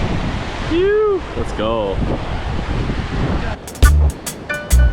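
Waves breaking on the Lake Superior shore make a steady broadband wash with wind buffeting the microphone, while people talk and call out over the surf nearby.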